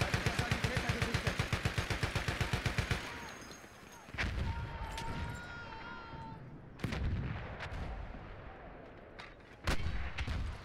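Heavy artillery-style blasts and gunfire from mortar fire in a Battlefield 1 multiplayer match: a rapid run of regular shots opens, then several loud, booming detonations spaced apart, with a voice speaking faintly underneath.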